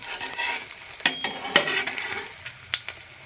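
Bread omelette frying in a pan, a steady close sizzle with a few sharp clicks and scrapes of a utensil over it and no talking.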